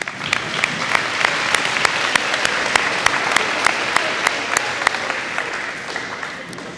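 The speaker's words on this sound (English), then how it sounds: "so one more round of applause for Grant." At a seventh-grade academic awards ceremony in a middle school, the audience applauds for a student named Grant. Steady crowd clapping fills the room, with a few sharp, distinct claps standing out close to the microphone.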